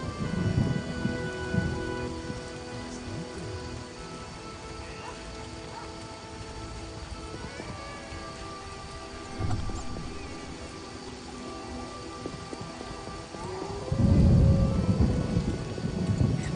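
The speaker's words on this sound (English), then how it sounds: "Vizima Rains and it pours." Rain falls and thunder rumbles in the video game The Witcher, with a steady wash of rainfall and low rolling thunder swelling at the start, around the middle and loudest near the end.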